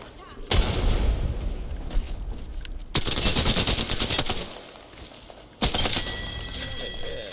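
Gunfire in Apex Legends: three loud bursts of rapid automatic fire, close and dense, with quieter gaps between them.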